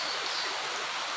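Steady rain falls at night outside a workshop where a Honda City i-DSI timing chain is being fitted, a dense, even hiss with no breaks or voices across the short stretch.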